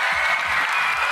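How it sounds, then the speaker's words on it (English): Audience clapping at a Nigerian political debate show, a brief, even burst of many hands filling the space without any break. "clap for them"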